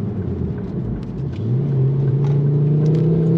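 A Ford Focus RS 500 engine drones from inside the car while cornering, a low steady rumble that rises in pitch partway through as the revs climb, heard from the cabin.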